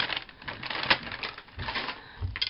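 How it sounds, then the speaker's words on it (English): Soft rustling and wiping sounds, close and scratchy, with a few louder brushes and thumps scattered through. "I'll just wipe this off first. Sorry for the rustling."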